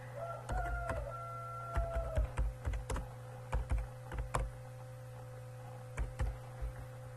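Keys on a computer keyboard are typed in short irregular bursts of soft clicks, close and fairly quiet over a steady electrical hum, with pauses between groups of keystrokes.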